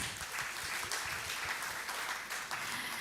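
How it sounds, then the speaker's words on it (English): Applause from a hall audience at an annual general meeting: a soft, distant wash of many hands clapping, steady and diffuse for about three seconds with no clear individual claps. "let's give everyone an applause"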